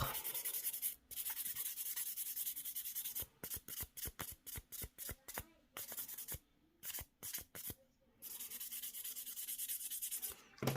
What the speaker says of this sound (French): Je vais mettre un petit coup de buffer